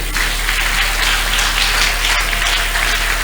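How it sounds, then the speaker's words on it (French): A church congregation bursts into applause during a Sunday service, a dense, loud wash of many hands clapping together, steady and sustained without pause, with no voices over it. "Peut-on acclamer la parole?"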